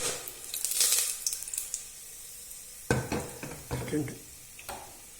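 Cinnamon, cloves and cardamom drop into hot ghee for ghee rice, giving a brief crackling sizzle followed by scattered stirring scrapes and clinks of a spoon against the pan, fairly quiet and close.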